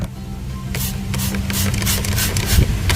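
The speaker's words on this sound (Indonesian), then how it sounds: "Kita semprotkan pada bagian ini" Ant killer sprays from a bottle in several short hissing bursts over a low mechanical hum, close and fairly loud.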